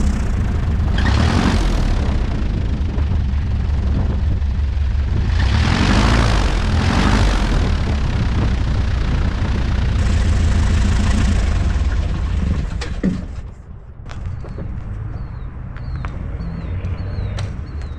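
Supercraft light aircraft on bush wheels taxiing on a back country airstrip, its propeller engine droning loud and close with rumbling bumps, then dropping to a quieter idle near the end.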